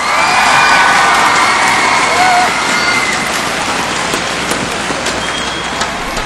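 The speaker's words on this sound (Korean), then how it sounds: "여러분 멋진 경기를 준 SK텔레콤 선수들에게 격려의 박수를 부탁합니다" A large crowd at an esports awards ceremony applauds the SK Telecom players, a loud, continuous roar of clapping and cheering with a few higher shouts above it.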